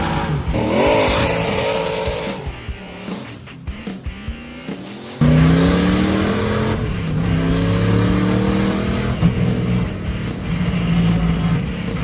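The Rotsun, a car fitted with a new engine, is driven hard with loud revving and rising, falling engine pitch through gear changes, a brief lull in the middle, then strong, sustained acceleration close by.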